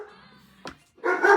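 Pet dogs bark indoors, a short sharp yap followed a moment later by a louder burst of barking, with faint harmonic whining before it.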